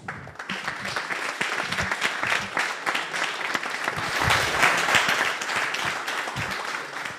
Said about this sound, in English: I would ask a huge round of applause for Pedro.